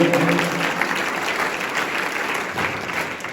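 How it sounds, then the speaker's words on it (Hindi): An audience at a district youth parliament event claps steadily, a dense wash of applause that holds for a few seconds without voices over it. "आप सभी का एक बार जोरदार तालियों से आप अपना स्वागत कीजिए"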